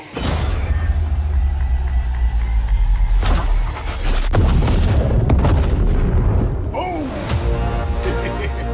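A grenade blast in an Apex Legends cinematic trailer: heavy booming hits land mid-stretch amid a loud, dense mix of rumbling engine-like noise and other action sounds.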